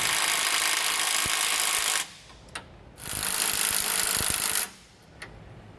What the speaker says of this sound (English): So we're just going to go back and snug them down now.